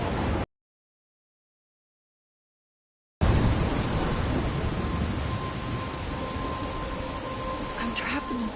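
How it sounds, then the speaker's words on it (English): Rain pours steadily in a thunderstorm within the video game Life is Strange, a dense hiss with low rumbling underneath, starting briefly, cutting to silence for about three seconds, then resuming loud and continuous without speech. "I'm trapped in a storm?"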